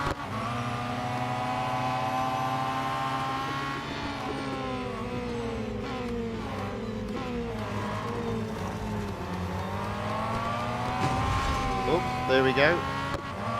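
Race car engines from the mobile racing game Real Racing 3 whine and shift through rising and falling revs, loud and steady for the whole stretch, with a player talking over them.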